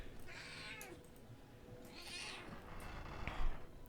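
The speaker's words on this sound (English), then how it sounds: "What are you doing, kitty?" A house cat meows twice in drawn-out, fairly faint calls, followed by a short sharp sound and a soft thump, in a quiet room with no talk.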